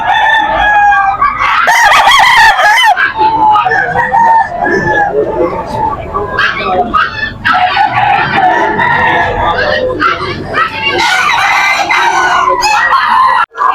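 Pumpkin hennie gamefowl roosters at a farm sale keep up a loud, nearby, overlapping chorus of crows and clucks for about fourteen seconds, with brief sharp bursts and faint voices now and then beneath the birds.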